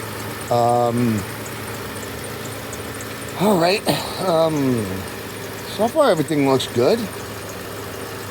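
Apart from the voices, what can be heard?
idling engine of a 2005 Kia Sedona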